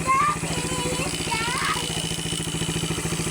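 A motorcycle engine, freshly re-jetted on its carburetor, idles steadily nearby with an even rapid pulse, while someone talks over it at the start.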